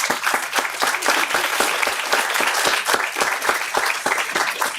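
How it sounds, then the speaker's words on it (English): An audience at a nutritional care policy summit claps for the speakers, a steady, fairly close patter of many hands that continues evenly throughout. "I'd like to give a big hand of applause for our speakers"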